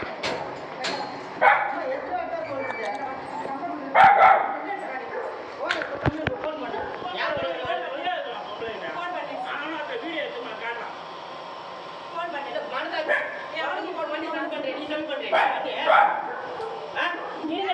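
A street dog barks and yips repeatedly outdoors, with whimpering between bursts, while several people talk loudly over it throughout.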